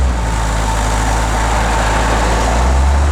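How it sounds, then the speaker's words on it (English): A 1978 Chevrolet Corvette 25th Anniversary Pace Car idles steadily up close, a deep, even engine rumble that settles slightly lower near the end after a throttle tap. "Tap the throttle a little bit, get it off high idle."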